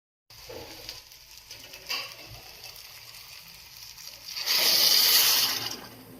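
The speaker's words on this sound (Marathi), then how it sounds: "छान असं शेवाळ मिक्स झाल्यानंतर यामध्ये गरम पाणी ओतून घ्यायचं" Hot water pours into a pan of roasted vermicelli, a few light clinks and stirring sounds giving way to a loud rushing, splashing gush that builds for a couple of seconds.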